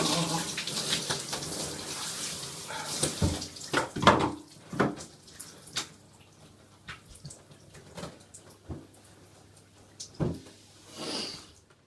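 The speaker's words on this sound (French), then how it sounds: "La douche relaxante ayant relaxé" Shower water running and splashing in a bathroom, a hissing spray broken by uneven knocks and splashes, fairly close and moderately loud, with no talk.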